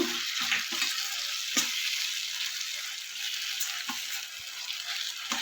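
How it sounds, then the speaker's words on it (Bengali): Masala sizzles in a hot pan while being stirred, a steady bright frying hiss broken by a few close scrapes and clinks of the spoon, with no talk. "মশলাটা আমি কিছুক্ষণ নাড়াচাড়া করে নেবো"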